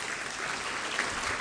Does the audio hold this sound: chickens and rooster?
no